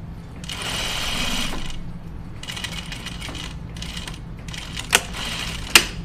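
A sewing machine stitches gym shorts in quick bursts of rapid mechanical chatter, several runs separated by short pauses, with a couple of sharp clicks near the end and no talking.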